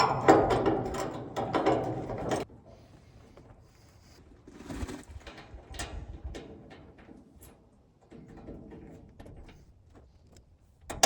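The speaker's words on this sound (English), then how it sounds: "So let's get that bolted up." Parts being bolted together with a hand ratchet, loud rapid clicking for about two seconds up close, then quieter scattered clicks and knocks of tools and metal parts.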